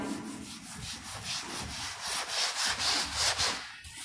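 Rhythmic rubbing strokes of a duster erasing written points from a classroom board, a steady back-and-forth scrubbing repeated about a dozen times, fairly close and alone without talk.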